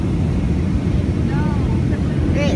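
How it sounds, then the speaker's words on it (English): Steady, loud broadband roar inside a jet airplane cabin in flight, a continuous low rumble with a faint whistling tone rising near the end. "Seriously, we are in a jet right now."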